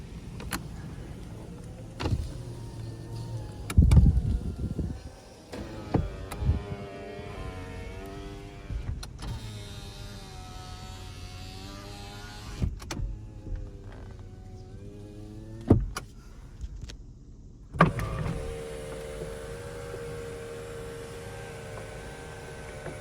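Power windows on a 2006 Toyota 4Runner SR5 4x4 run up and down, producing a steady motor whine with clicks and thumps as each window stops. The cycles repeat over a quiet cabin background.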